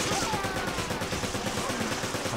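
Rapid gunfire in the video game Resident Evil 5 crackles in quick bursts, a dense rattle of shots filling the whole moment at close range.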